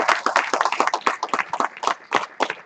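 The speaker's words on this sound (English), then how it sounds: "How about a round of applause for the guests in the room today, guys?" Guests in a room clap their hands together, a brisk, uneven patter of many close hand claps that runs steadily for a few seconds with no talking.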